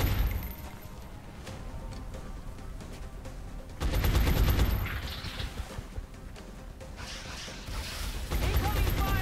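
Gunfire from the turn-based strategy game XCOM: Enemy Within with the Long War mod, heard as rattling bursts of shots with a loud volley about midway and another near the end, over a steady game backdrop.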